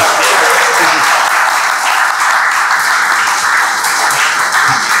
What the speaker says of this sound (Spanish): un fuerte aplauso para la profesora, por favor